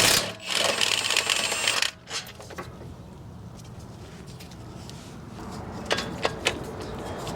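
Impact wrench loosening the front brake caliper bolts on a 2015 Lexus LX 570, a loud rattling burst at the start, then a pause, a second short burst and quieter garage clatter with a few sharp clicks.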